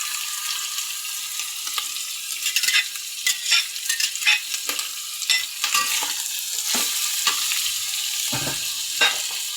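Hotdogs fry in a pan on a gas stove with a steady close sizzle, broken by scattered scraping and clinking as they are moved and turned, and no voices.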